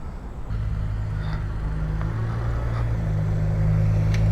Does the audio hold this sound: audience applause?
no